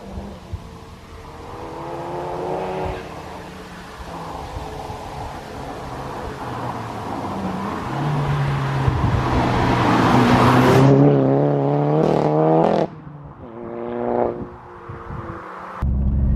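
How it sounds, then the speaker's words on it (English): A Seat Leon Cupra R engine revs hard and loud, climbing steadily through the rev range to a strained peak before the pitch drops sharply on a shift, then picks up again, heard close with no talking. "the more you go through the rev range, the more you're getting back from the engine"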